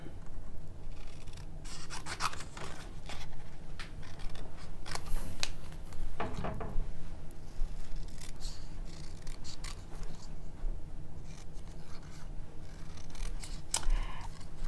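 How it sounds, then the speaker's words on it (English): Scissors snipping freehand through paper shapes for a slimline pop-up card, a steady run of close, crisp cuts and rustles with no talking. "So I'm just freehand cutting those out."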